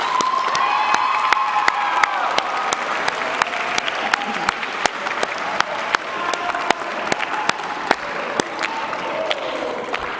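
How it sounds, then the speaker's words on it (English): Children in an awards-ceremony audience clap loudly for school support staff, a dense, sustained burst of many hands with sharp individual claps and some cheering and shouting mixed in throughout. "kids, I want you to clap really loud for these guys."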